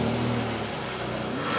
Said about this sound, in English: So the engine is now a bit warmed up and you can see how smooth it runs on idle.